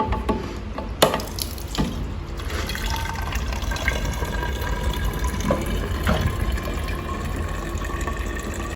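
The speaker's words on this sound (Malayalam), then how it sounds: "നമ്മൾ വെള്ളം എടുക്കുകയാണ്" Drinking water runs from a tap into a container, a steady close rushing flow with a few knocks and clinks along the way.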